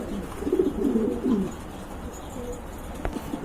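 Pigeons, including Maltese and pouter breeds, coo at a pigeon farm, with a low rolling coo standing out close by early on and softer calls and faint rustling continuing behind it.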